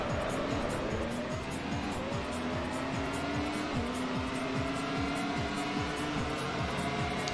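Race cars in the Grand Prix Challenge PS2 game roar along a wet, rainy track, engines revving and downshifting in repeated falling sweeps as they brake hard, with a steady loud drone throughout.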